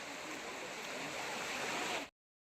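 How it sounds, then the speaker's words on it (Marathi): Marleshwar waterfall at Maral roars as a steady, dense rush of falling water for about two seconds before cutting off abruptly into silence. "धबधबा आहे."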